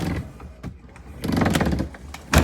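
A Whirlpool refrigerator bottom drawer, model WRF757SDHZ02, sticks as it is pulled, giving scraping, grinding rattles in uneven bursts and ending in a sharp clunk.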